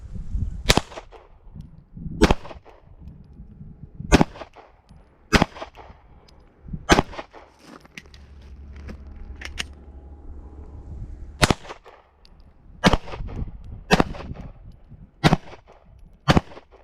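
Sharp handgun shots ring out during a law enforcement qualification course, five fired standing and five kneeling. The shots come as loud, isolated cracks a second or two apart, with a pause in the middle.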